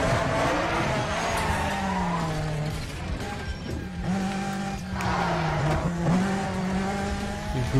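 A race car skids with squealing tires in a downhill racing video game, the squeal wavering over a steady loud engine roar, near and continuous.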